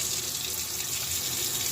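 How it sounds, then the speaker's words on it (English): Tap water runs steadily into a measuring cup being filled to cook quinoa, a continuous close splashing hiss with no pauses. "you want to add some water to this, 2 cups of water"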